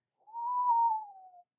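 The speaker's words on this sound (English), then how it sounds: "With a prolonged whistle." One prolonged whistle, a clear steady tone held for over a second that drifts slightly lower as it fades, heard alone against silence.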